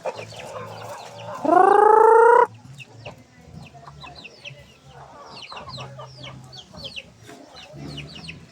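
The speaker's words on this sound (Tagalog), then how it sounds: "mga malalaking manok ni Jack" Jack's big dark-feathered fowl in a farmyard, a flock clucking and calling throughout, broken by one loud drawn-out crow near the start, with fainter calls after.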